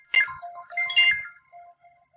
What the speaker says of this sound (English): I'm sorry, my phone keeps blowing up.